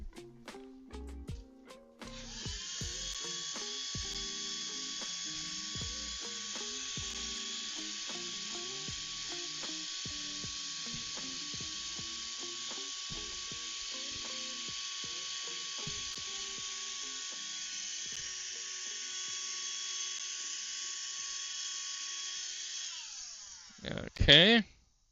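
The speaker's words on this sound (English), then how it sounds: "Just my hand vac here." A handheld vacuum cleaner switches on after a few seconds of faint clatter and runs with a steady, even high whine for about twenty seconds, then cuts off with a brief rattle.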